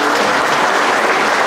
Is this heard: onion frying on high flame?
no